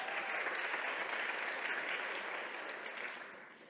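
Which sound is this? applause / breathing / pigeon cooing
applause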